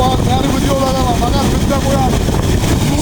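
Motor-driven turbine water pump gushing a heavy, constant roar of water, loud and unbroken, with a voice faintly over it.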